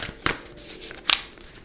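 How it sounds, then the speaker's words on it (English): Tarot cards being shuffled by hand: two distinct crisp riffling bursts about a second apart, close and fairly quiet, with soft papery rustling between and no voice. "When I was first shuffling the cards, when I was preparing the cards, I shuffled them."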